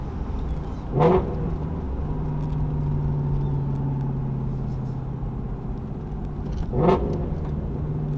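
A Ford Mustang GT350 with a loud Corsa exhaust blips up sharply twice on downshifts, about six seconds apart, with a steady droning cabin rumble in between, loud and close.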